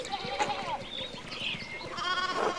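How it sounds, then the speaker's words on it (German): Sheep in the video game Pentiment bleat in several overlapping calls over a short stretch, moderately loud and close, with some background murmur. "wir müssen die Schafe einfangen."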